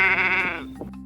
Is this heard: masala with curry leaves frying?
no